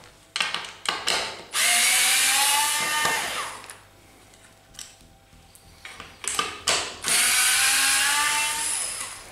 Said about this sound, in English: Remove the four screws.